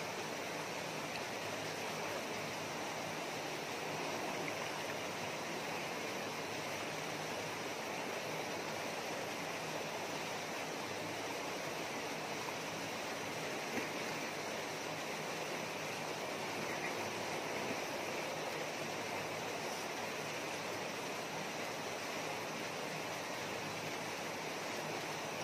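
Falling water pours steadily in a dense, unbroken rush, loud and constant throughout with no voices.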